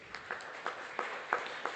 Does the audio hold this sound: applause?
yes